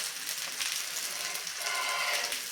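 Oil sizzles steadily around a jowar flour and spring onion crepe in a pan on low heat, a dense continuous crackling hiss close by, with no talk.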